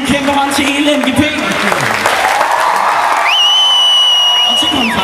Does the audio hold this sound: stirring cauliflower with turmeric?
no